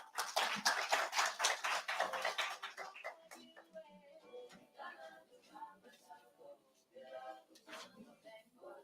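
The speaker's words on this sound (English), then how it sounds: "Let's give a round of applause, please." An audience applauds at an evening event on preventing early and unintended pregnancies, clapping densely and briskly for about three seconds before thinning into scattered claps under a speaker's voice.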